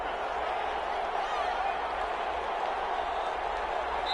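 A home stadium crowd at a Tennessee Titans football game applauds after a win, forming a steady, distant wash of clapping and crowd noise that continues evenly throughout.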